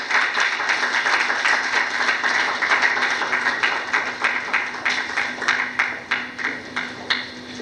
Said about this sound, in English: Please, one more time, a round of applause for her.